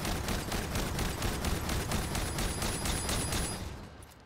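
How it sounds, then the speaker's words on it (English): Rapid, evenly spaced shotgun blasts from a modded shotgun in the video game Aliens fire as a loud, dense, continuous volley, tapering off at the very end. "I'm gonna demonstrate how fast this thing can shoot."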